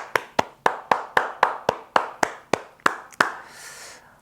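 Steady, evenly spaced hand claps, about a dozen sharp close strikes in a regular rhythm, from a church congregation greeting a Christmas morning worship service, ending in a softer rustle.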